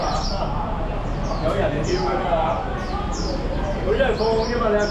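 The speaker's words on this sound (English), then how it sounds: "these beautiful birds everywhere" Birds chirping along a street in Macau, repeated short high tweets scattered through the passage, mixed with street ambience and someone talking over them.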